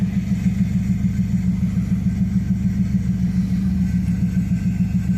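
A 1969 Lincoln Continental Mark III engine idles with the air filter removed from its intake, a steady deep rumbling drone with strong low harmonics, close and loud with no talk.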